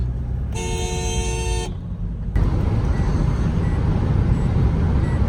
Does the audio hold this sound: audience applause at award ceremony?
no